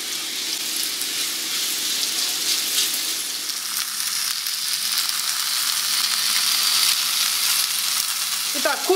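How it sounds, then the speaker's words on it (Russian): Chicken pieces fry in vegetable oil in a hot pan, giving a steady, close sizzle that carries on without a break and with no voices. "наливаем немного растительного масла и обжариваем курицу до красивого золотистого цвета"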